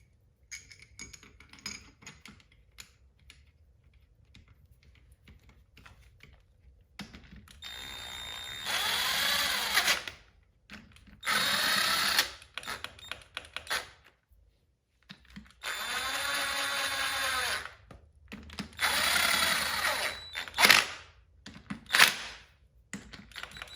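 A power tool whirs in several separate bursts, each a couple of seconds long, while tightening the bearing caps on a Kia Sportage differential. Quiet workshop background fills the gaps, with no talking.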